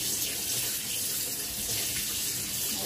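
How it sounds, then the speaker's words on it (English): A kitchen tap runs in a steady, full gush of water while a plate is rinsed beneath it, close and continuous with no voices. "Okay, take this plate, just rinse it."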